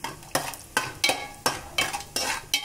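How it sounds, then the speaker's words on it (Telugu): Cashews fry in hot ghee with a close crackling sizzle, and a spoon scrapes the pan in regular strokes roughly every half second. "ఇప్పుడు జీడిపప్పులు వేసేసుకొని వేయించుకుంటున్నాను"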